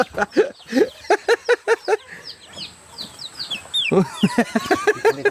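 Chickens cluck in quick repeated bursts close by, pausing briefly amid softer chirps before the clucking resumes busily.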